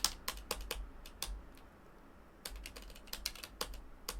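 Typing on a computer keyboard close to the microphone, with bursts of quick, crisp key clicks separated by a short pause near the middle, fairly quiet and alone.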